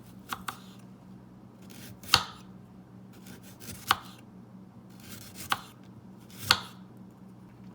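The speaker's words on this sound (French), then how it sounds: "On va vraiment couper le radis assez finement. Donc vraiment faites des petites tranches comme ça." A kitchen knife slices a radish thinly on a cutting board, with six or so sharp, distinct cuts spaced irregularly, close and clear over a quiet background hum.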